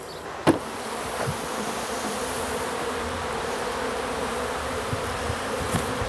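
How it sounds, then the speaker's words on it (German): Honey bees pour out of the hive entrances after being shut in during transport, a dense, steady buzzing swarm filling the air close by, with a brief sharp knock near the start. "öffnet Silke Friederich die Fluglöcher und entlässt ihre Bienen in die Freiheit"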